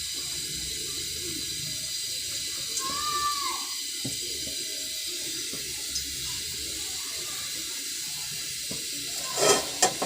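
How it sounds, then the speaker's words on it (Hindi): Half a cup of cooking oil poured into a pan, a soft steady liquid hiss running throughout, with a few small clinks near the end. "आधा कप ऑयल डालेंगे।"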